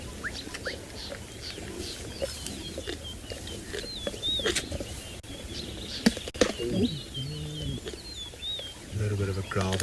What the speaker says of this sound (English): A little bit of a growl there from the 2 siblings.